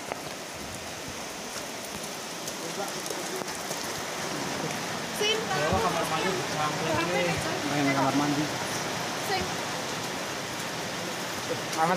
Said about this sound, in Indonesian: Hujan deras.